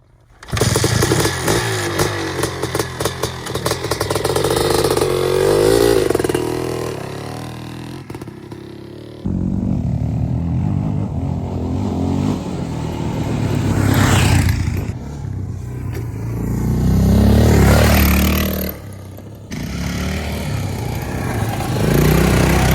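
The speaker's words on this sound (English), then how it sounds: "Okay, so got to ride the 500 two-stroke" A 2026 Honda CR500 two-stroke dirt bike engine blares loudly and continuously, its pitch rising and falling with repeated throttle changes as it rides, with brief dips between bursts of acceleration.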